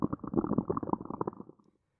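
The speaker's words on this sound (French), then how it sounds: "Soudain, il sent un gargouillement dans son ventre." A cartoon character's swollen belly gives a low, bubbly stomach gurgle, a close rumbling burble lasting under two seconds that fades out to silence.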